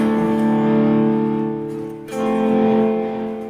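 An electric guitar fed through a volume pedal, then distortion and delay, holds sustained distorted notes that swell, dip and swell again while echoes trail and decay, played alone without talk.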